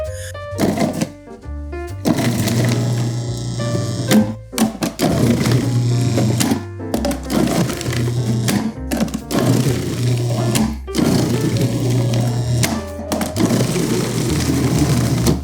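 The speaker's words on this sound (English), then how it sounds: "I love running a food processor." A food processor chopping onions for French onion soup runs loud and close, a steady mechanical whir and rattle broken by short pauses and restarts, with no voices.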